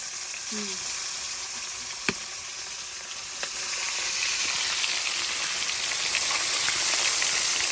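Steady hiss of fish frying in hot oil, with a couple of sharp clicks early on and the sizzle swelling slightly louder toward the end.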